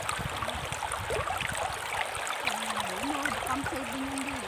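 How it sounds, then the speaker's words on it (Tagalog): Running water trickles and rushes steadily at a campsite, a close, continuous watery hiss with faint voices murmuring underneath. "Running water."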